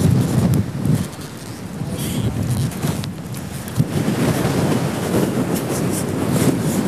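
Strong wind blows outdoors by the sea where people are windsurfing, a loud continuous rushing roar with buffeting gusts hitting the microphone, with a faint voice low in the mix.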